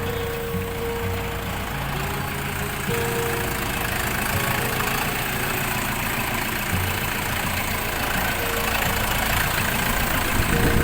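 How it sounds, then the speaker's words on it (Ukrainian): An Orion RF 404 small tractor engine idles steadily and loudly with a low, even chugging drone throughout, no voices. "Будемо вантажити тракторця Оріон РФ 404 з примусовим пусканням навісного."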